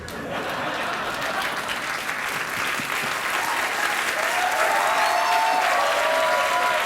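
A late-night talk show studio audience applauds, a dense, steady wash of clapping and some crowd murmur throughout, with faint tonal sounds rising in the latter part.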